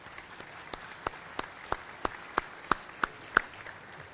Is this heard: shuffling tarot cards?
no